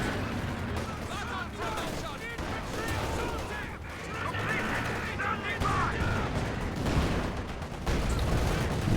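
A bundle grenade going off in a World War II tank strategy video game, with a busy battle mix of gunfire and explosions under continuous commentary from a man.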